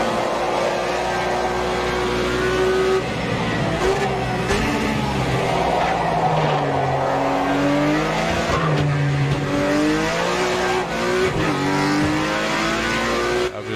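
Porsche 911 boxer engine in a racing simulator game, loud and continuous, revving up and down through gear changes with rising and falling pitch sweeps and occasional tire squeal.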